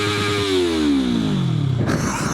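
A Yamaha YZF-R3 motorcycle on a night highway ride: close, loud engine tone that winds steadily downward as the bike slows, with a brief rougher burst near the end.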